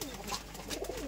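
Soft cooing of pigeons kept by a fancier, a few low murmuring calls close by but faint, with no clear speech.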